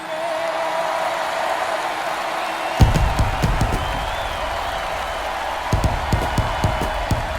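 Stadium crowd at an ALDS baseball game between the Red Sox and White Sox cheering after the national anthem, a broad sustained roar joined midway by bursts of claps and thumps, a tone ringing faintly early on.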